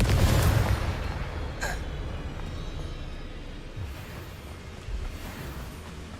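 A Confringo fire spell from the Hogwarts Legacy video game bursts in a loud, close explosive boom at the start, then fades into a long rumbling decay with a few faint later thuds.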